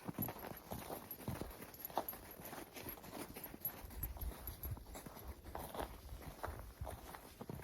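A dog wearing booties walks outdoors in freezing New England snow, giving a soft, irregular patter of steps, quiet and close, with no speech.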